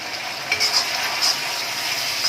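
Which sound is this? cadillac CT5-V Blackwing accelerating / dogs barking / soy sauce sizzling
soy sauce sizzling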